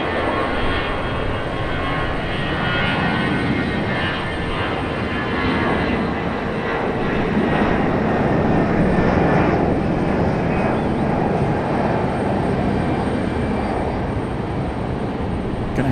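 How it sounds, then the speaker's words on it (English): An American Airlines jet departs RDU airport with a loud, sustained engine roar that swells slightly midway and holds steady throughout, with no talk. "Another American departure over here"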